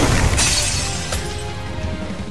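Shattering ice from an Ice Storm spell in Octopath Traveler 2, a loud crystalline burst of breaking, glassy shards that rings out and trails off, with a second sharp crack partway through.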